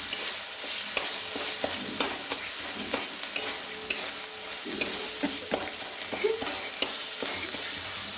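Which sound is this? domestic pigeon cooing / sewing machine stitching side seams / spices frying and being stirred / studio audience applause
spices frying and being stirred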